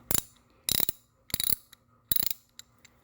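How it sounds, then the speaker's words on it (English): A Craftsman ratchet in a garage clicks in four short, sharp bursts of rapid pawl clicks with brief pauses between, close and clear with no talking. "Really nice ratchet."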